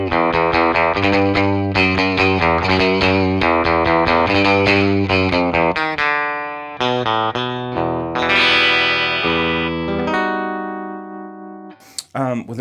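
An Ibanez AR520 electric guitar with its bridge pickup split plays the James Bond theme: a string of rhythmic chugging notes with effects, then sustained bends and held tones, loud and close, with no talking.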